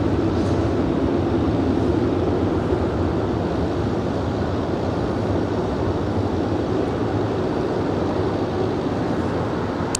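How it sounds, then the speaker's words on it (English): An American Airlines Boeing 787-9 Dreamliner taxis at Los Angeles International Airport, heard as a steady, broad jet-engine rumble and roar at a distance that stays constant throughout. "It's a 787-9 Dreamliner making that left-hand turn on the taxiway Bravo."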